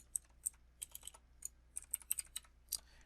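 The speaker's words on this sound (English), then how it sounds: "you type 2 forward slashes, and then you can put your name on here" Fast, light typing on a computer keyboard while writing a first C program, a quick irregular run of crisp key clicks, close and fairly quiet, with no talk.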